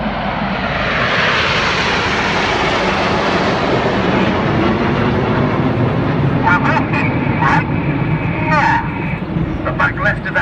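The Red Arrows' BAE Hawk T1 jets fly in a tight formation display at the Sunderland Air Show, a loud, steady roar of jet engines sweeping past, while a commentator talks over it.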